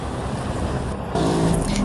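Car engines rumble steadily at a busy market parking lot in Caruaru as vehicles arrive, with one passing close and louder toward the end and no talk.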